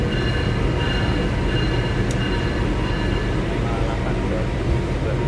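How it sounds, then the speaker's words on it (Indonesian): Bima passenger train rolling on a railway track, a steady loud rumble of wheels and carriages that holds constant without a break. "Dan ya kereta api Bima langsung di jalur 3"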